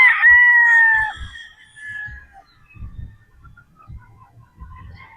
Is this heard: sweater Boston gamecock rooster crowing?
yes